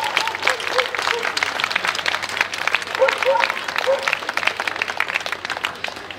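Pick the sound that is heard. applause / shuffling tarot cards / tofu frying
applause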